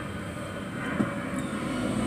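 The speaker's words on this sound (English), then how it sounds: "Boy, we have trains and planes and it's really noisy out here today." A train passing outdoors on a noisy day with planes also around, heard as a steady, loud broadband rumble that holds throughout with no talking.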